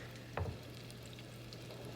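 Floured liver pieces fry in grease in a skillet, giving a faint, steady sizzle with one brief louder crackle near the start as a piece goes in, no talk.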